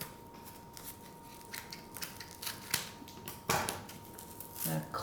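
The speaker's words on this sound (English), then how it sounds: "It's a matter of cutting the tape away" Packaging tape is cut away from a boxed orchid with a series of faint, irregular snips and scratchy cuts, bunched into short bursts over quiet background noise.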